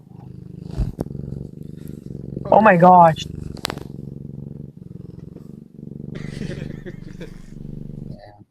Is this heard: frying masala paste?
no